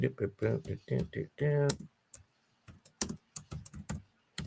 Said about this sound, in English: the time that I'm going to be typing into this thing